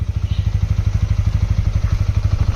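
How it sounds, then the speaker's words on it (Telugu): A motorcycle engine runs loud and close with its ignition on, giving a steady rapid thumping pulse with a faint rattle over it, and no talk. "ఎవరైనా సరే ఇగ్నిషన్ ఆన్ చేసి బండి తీసుకొని వెళ్ళడానికి ట్రై చేస్తే"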